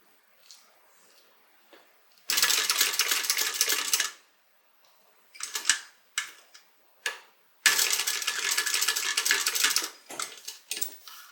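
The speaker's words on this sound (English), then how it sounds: "what I'm going to do is go forward, and then I'm going to back stitch right over that stitch" A sewing machine stitches a bag strap connector in two loud bursts of roughly two seconds each, going forward and then back stitching over the line, with clicks and handling noises between the runs.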